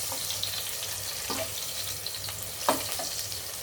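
Chilies sautéing in a pan as a biryani base: a steady, moderate sizzling hiss close by, with a few soft stirring clicks and one louder knock near the end.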